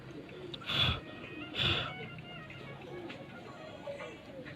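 Pigeons on a rooftop loft in Sheikhupura, two soft breathy coos close by over a faint background murmur.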